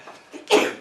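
A single sharp sneeze bursts out loud and close after a moment of quiet during a town board meeting, ending in a short breathy tail.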